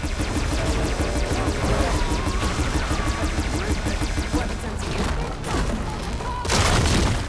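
Tremor Tusk machine attacking in Horizon Forbidden West, a dense continuous barrage of booms, thuds and crashing impacts, loud and close, with a few sharper bursts near the end.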